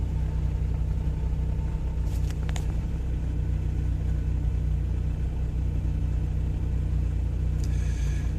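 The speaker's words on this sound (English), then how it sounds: "if I just let off the gas, it's at 750 according to the tack, and then it wants to drop a little" A 1987 Toyota 4Runner engine idles at a steady low rumble with a faint miss, heard close and alone, with a couple of brief clicks partway through.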